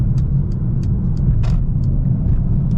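A Mercedes-AMG A35 engine drones steadily while driving, with a brief burst near the middle as it shifts into first on the move, over a low road rumble.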